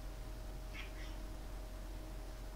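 A cat gives two brief, faint meows in quick succession over a steady low hum, with no talking.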